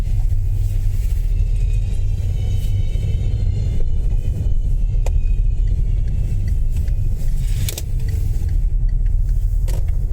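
Busy street traffic in Stirling, Scotland, heard as a steady, loud rumble of passing cars and engines, with a small Fiat among them and occasional brief clicks over the continuous road noise.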